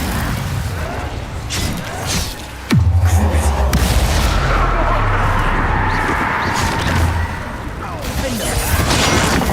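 An Incendio fire spell cast in the Hogwarts Legacy video game: a sharp crack and deep whoosh that settles into a sustained roaring blaze, loud and close amid ongoing combat noise.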